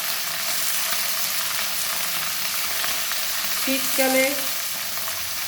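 Onion stalks and flat beans fry in a pan, a steady sizzle running throughout with stirring. A brief spoken word is heard near the end.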